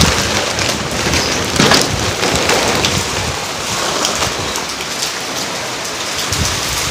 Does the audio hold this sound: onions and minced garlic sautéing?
no